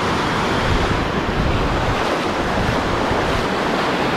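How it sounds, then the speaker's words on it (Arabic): Sea waves washing onto a beach at Houara, a continuous broadband surf roar with steady wind noise buffeting the microphone, loud and close with no voices. "حتى البحر تهز شي شوية"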